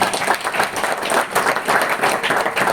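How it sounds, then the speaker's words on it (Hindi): An audience breaks into a brisk round of applause for a participant, dense clapping that stays fairly loud and steady throughout, with no speech over it. "शाहीन के लिए तालियां होनी चाहिए।"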